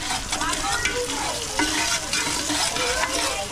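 Dinuguan with duck meat cooking in a pan, steady crackling sizzle with repeated scraping stirring strokes of a utensil against the pot, close and continuous.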